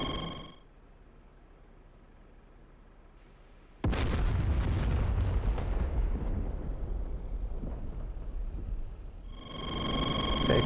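A loud, sudden anti-radiation missile blast in a flight combat game strike against an SA-10 site, a single heavy boom that rolls and rumbles for several seconds before fading back into quiet cockpit hum.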